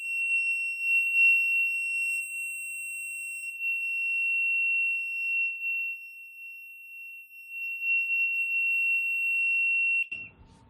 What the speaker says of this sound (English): Let's go ahead and trip the fire alarm system here